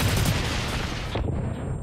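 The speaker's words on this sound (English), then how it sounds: "my own grenade almost killed me" A grenade bursts in the shooter game Blacklight: Retribution, a loud broadband blast with crackling debris that cuts off abruptly into a quiet tail.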